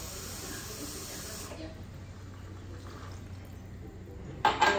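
Water poured into a hot pan of lasagna sauce hisses sharply for a second or two, then settles into a softer, fading sizzle, ending with a brief clatter.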